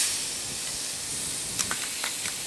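Crushed ingredients dropped into hot coconut oil with popping mustard seeds for Kerala kappa pirattu, giving a steady broad hiss of sizzling with a few sharper crackles and spits near the end.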